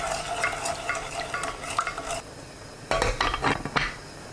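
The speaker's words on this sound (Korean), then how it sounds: "냄비에 양파, 월계수잎 3장, 물 50ml, 진간장 100ml, 설탕 250g 넣고 섞어서 센 불로 끓입니다" Onion, bay leaves, water, soy sauce and sugar are stirred in a pot, giving bursts of scraping and clinking against the metal with a pause partway through; a light sizzle sits underneath, and no voices are heard.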